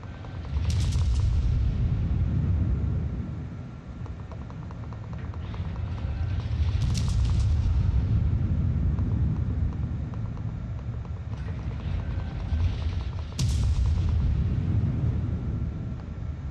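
Warship guns boom in the naval video game World of Warships, three or four heavy reports spaced several seconds apart over a loud, continuous low rumble of sea and engines.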